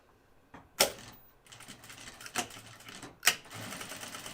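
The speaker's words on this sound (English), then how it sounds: "we're going to sew this down here" A sewing machine stitches down a Blanca flight suit, with sharp mechanical clicks and short, light runs of stitching between quieter handling noises, close by and with no talking.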